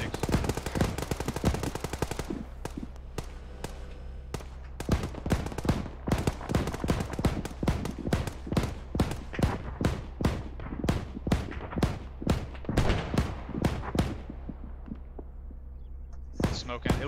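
Bursts of automatic gunfire aimed at an armoured vehicle in the video game Arma 3, loud sharp shots in rapid repeated volleys with brief gaps, while voices talk over radio underneath.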